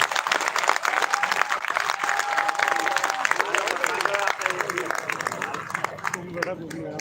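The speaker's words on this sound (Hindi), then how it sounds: "साथियों, एक बार विक्की के लिए जोरदार तालियां।" Crowd applause at a Rajasthan government workers' strike rally, steady dense clapping filling the clip with voices and crowd noise mixed in, a sustained tone briefly cutting through.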